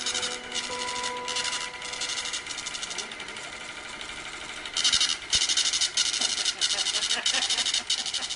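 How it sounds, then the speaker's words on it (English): An AccuVote voting machine prints a vote tally tape, its printer mechanism whirring and buzzing steadily in rapid bursts, growing louder partway through, with voices talking over it. "will now cause the voting machine to print out a tape reading the number of votes that it had just read"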